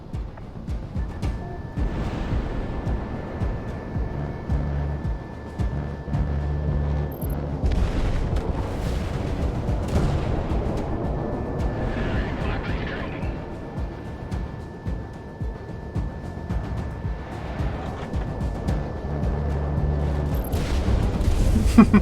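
An aerial dogfight in Project Wingman fills the air with steady rumbling jet roar, bursts of gunfire and booming missile hits, layered with game radio chatter and warning tones, continuous and loud.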